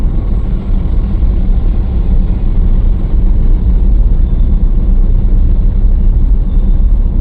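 A car engine drones low and steady during a driving lesson, a heavy continuous rumble filling the cabin with no distinct revs and no talk.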